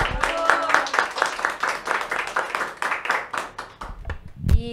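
A small audience claps after a talk on a Catholic discussion show, a brisk run of distinct handclaps that thins out and fades near the end, with a brief low noise at the close.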